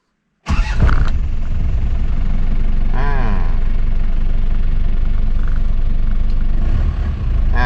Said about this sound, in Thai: เดี๋ยวผมสตาร์ทเครื่องให้ฟังนะครับ